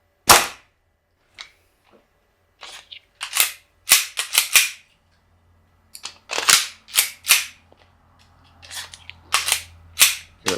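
A G&G Piranha SL gas blowback airsoft pistol firing outdoors, sharp close cracks with a snappy slide clack, fired as scattered single shots and quick pairs and bursts separated by pauses.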